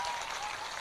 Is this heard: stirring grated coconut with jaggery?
no